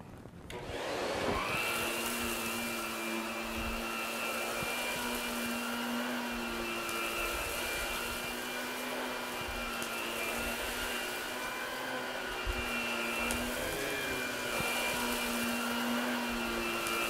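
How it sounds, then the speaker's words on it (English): A vacuum cleaner pre-vacuums carpet before bonnet cleaning, its steady motor whine droning loud and close for the whole stretch after a brief start-up, with no voices. "So pre-vacuuming is very important."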